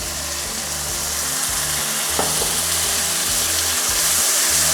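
Chicken chow mein sizzles steadily in a pan with added stock while being stirred, a constant loud frying hiss with a low rumbling hum underneath and a brief scrape of the utensil.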